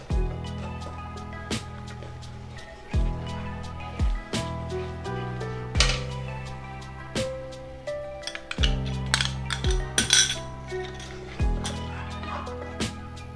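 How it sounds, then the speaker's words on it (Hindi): A spoon stirs and scrapes ginger-garlic paste with cashew-almond paste roasting in a pan over fried onions for shahi paneer, giving repeated sharp metallic clinks and scrapes at an irregular, quick pace, fairly quiet overall. "इसे जल्दी जल्दी चलाते हुए भुनेंगे, छोड़ेंगे तो ये नीचे से जल जाएगा।"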